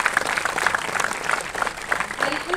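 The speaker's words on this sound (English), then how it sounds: "Let's give him a big round of applause" An audience at a closing ceremony applauds a speaker, a short stretch of steady clapping with crowd murmur beneath.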